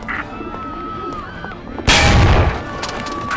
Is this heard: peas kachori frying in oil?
no